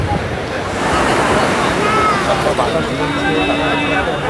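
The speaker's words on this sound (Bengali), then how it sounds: "রাতের বেলাতেও কিন্তু সমুদ্রে মারাত্মক স্রোত রয়েছে" Steady roar of ocean surf at night at Puri, broad and continuous, with strong currents, a faint murmur of distant voices and wind in the background.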